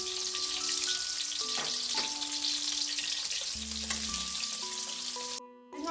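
Carrots frying in hot oil in a wok give a steady, dense sizzle that runs throughout, with a few clinks of stirring and a brief dip near the end.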